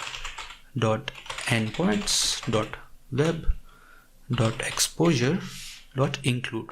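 Keyboard typing on a computer while someone talks over it, entering Spring Boot actuator configuration settings; soft key clicks run beneath steady speech throughout.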